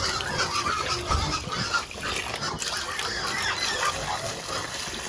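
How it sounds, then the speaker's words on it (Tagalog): Young piglets on a farm grunt and squeal softly in a pen, giving a busy, restless chatter at low volume with no talking. "Ito po yung ating mga biik na anak nito."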